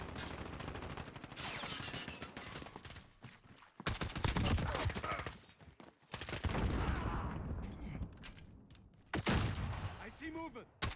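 Oden rifle gunfire in the shooter game Modern Warfare, several loud close bursts of heavy shots separated by brief quiet gaps, with someone talking over much of the action.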